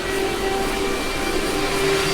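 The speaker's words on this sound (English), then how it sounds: "which is vacuuming" A vacuum cleaner runs steadily on commercial carpet in an office cubicle area, a constant close drone with a clear whine, unbroken for the whole stretch.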